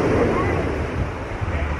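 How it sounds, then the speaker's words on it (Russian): Warm, humid sea wind at a seaside restaurant in Turkey buffets the microphone, a steady low rumble with uneven gusts throughout. "Около моря такой приятный ветер."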